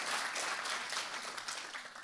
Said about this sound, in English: you can give him a round of applause as well.